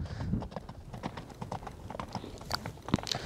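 A fast horse's hooves clip-clop in a steady, close, uneven rhythm of sharp knocks on hard ground, with no voices.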